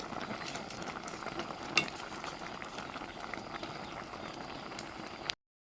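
A pot of fish curry with mushrooms and red ant eggs bubbles and is stirred, giving a close wet simmering hiss with occasional scraping and knocks before it cuts off abruptly.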